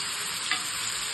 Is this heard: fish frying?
yes